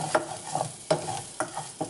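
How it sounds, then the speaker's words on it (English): Rice and corn being stirred in a pot while the rice toasts. A spoon scrapes in four or five distinct strokes, evenly spaced and close up, with a light sizzle underneath and no talking. "we're going to stir it until the rice is toasted, about 1 to 2 minutes"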